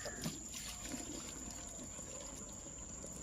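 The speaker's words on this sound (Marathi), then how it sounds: "पाणी ओतते बघा आता हे" Steady water pouring and trickling, a continuous low splashing wash with a faint high whine running throughout.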